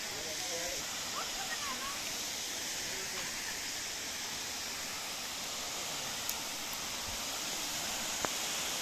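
Budar Jharna waterfall at Chhatiwan, Doti, Nepal, a steady broadband rush of falling water heard at a moderate distance, with faint voices and a couple of brief clicks over the constant roar.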